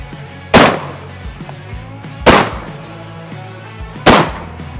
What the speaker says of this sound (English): we're gonna take some slugs to the pumpkin